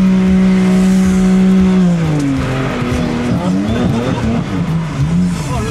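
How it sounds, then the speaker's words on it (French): A car drifting around a small circuit, its engine holding a steady loud drone before the revs drop and waver, with tire squeal and skidding noise running throughout at close range. "je monte avec quelqu'un qui fait du drift"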